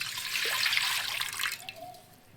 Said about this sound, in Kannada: ಈಗ ನೋಡಿ ಈ ಪಾತ್ರೆಯಲ್ಲಿ ನಾನು ನೋಡಿ ಈ ಚಮ್ಮಿಂದ ಒಂದು ಚಮ್ ನೀರು ಹಾಕ್ಕೊಳ್ತೀನಿ